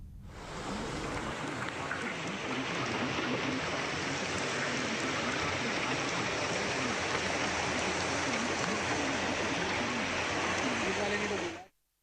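Floodwater in swollen rivers and streams rushes in a steady, dense roar after heavy rain, continuous for several seconds, with a voice speaking over it.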